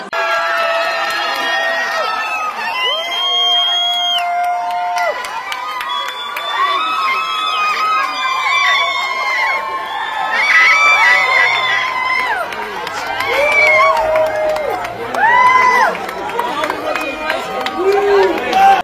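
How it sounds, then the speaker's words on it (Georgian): A crowd outside a courthouse greets a freed man with applause and shouts, dense cheering and excited calls mixed with overlapping voices throughout, loud and continuous. "კაციას მოქალაქეები ტაშითა და შეძახილებით შეხვდნენ"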